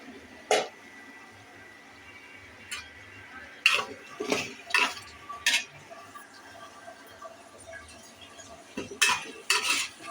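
Spices being stirred and fried in a pot, with a metal spoon clinking and scraping against the pot in scattered bursts over a quiet background of frying.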